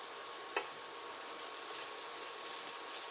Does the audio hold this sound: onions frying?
yes